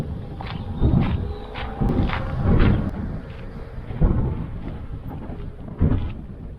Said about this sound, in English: It is also just a windier day today than yesterday.